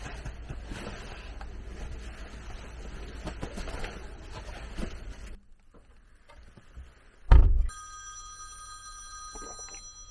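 An indoor telephone rings with a bright electronic tone after a stretch of low rumbling noise and a loud thump. The ring sounds steady and moderately close.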